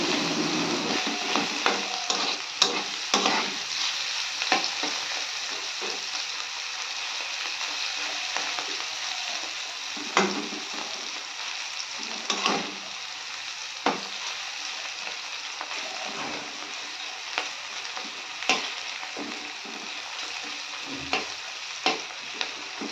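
Salted, squeezed bitter gourd slices fry steadily in hot oil, a continuous dense sizzle with occasional scraping stirs and light utensil clicks, close and without talk.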